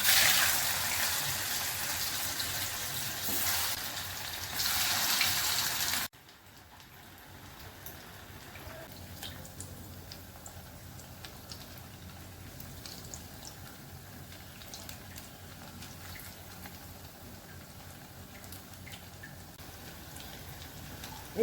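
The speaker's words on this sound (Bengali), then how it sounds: "এবার আমি ভেজে নেব।" Pointed gourd fritters frying in mustard oil give a steady, fine crackling sizzle, close and even throughout, after a brief louder burst at the start; no one speaks.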